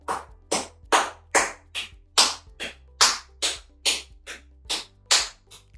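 A hand slaps firmly down along the forearm and past the elbow in a self-massage tapping routine, about fourteen crisp, close, evenly spaced smacks at a steady rhythm with no talking over them.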